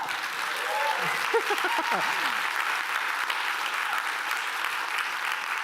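Steady applause from a large audience at a church fills the space, broad and continuous, with a brief spoken phrase rising over it near the start.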